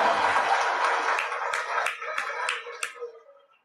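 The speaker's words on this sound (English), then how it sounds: "let's give the beautiful Kim a round of applause" Applause for a guest on a talk show, a small group clapping together at moderate volume, thinning to a few loud separate claps before it fades out.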